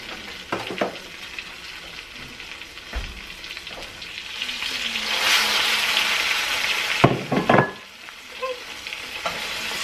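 Pot roast searing in a hot pan gives a steady, close sizzle and fry hiss for the full stretch, swelling in the middle and broken by a few sharp clatters and scrapes of the meat being handled.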